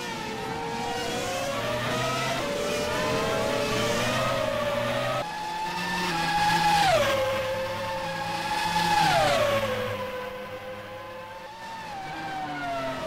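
Formula-style race cars in a racing video game at Melbourne, several engines whining and revving close by as they shift up and down through gears, pitch sweeping with each pass, steady and loud throughout.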